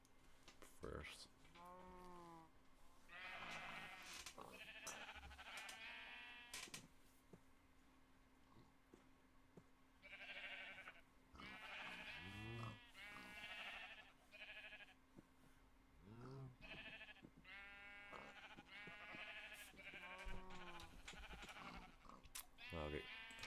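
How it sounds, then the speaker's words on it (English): Sheep in a video game let out repeated wavering bleats in scattered bursts, mostly close and clear, with some keyboard tapping faintly underneath. "Let me just farm the sheep"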